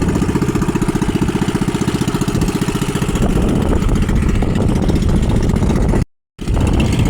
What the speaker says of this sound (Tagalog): Kumalog yung ating makina